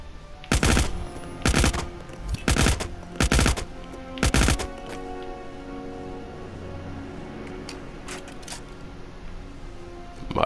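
Rapid bursts of automatic gunfire in the Hitman video game, five sharp loud volleys in quick succession, followed by quieter scattered shots against a low ambient hum.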